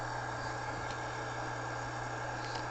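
Diesel locomotive engine idling in a train simulator game with a CN add-on pack, a low, steady rumble with a constant hum, quiet and unbroken.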